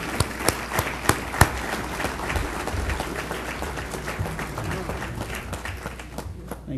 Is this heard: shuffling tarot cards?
no